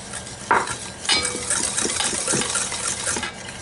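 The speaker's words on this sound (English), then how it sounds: "We're going to start whisking that in" Sugar and vanilla being whisked in a bowl for lemon crème brûlée, quick close metallic scrapes and taps of the whisk against the bowl in an uneven rhythm, with no talking.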